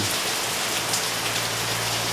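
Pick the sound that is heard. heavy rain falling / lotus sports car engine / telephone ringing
heavy rain falling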